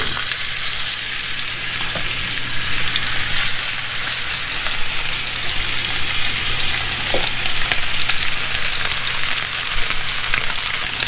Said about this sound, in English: Okay, so I know our pan is really hot. and our steaks can go down.